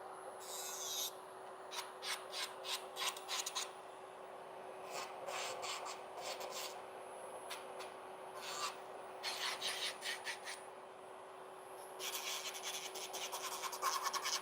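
An electric nail drill running at 9,000 RPM files an artificial nail, giving repeated short, faint rasping strokes in bursts over a steady high whine, with no voices.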